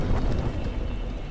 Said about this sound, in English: Don't mind that explosion.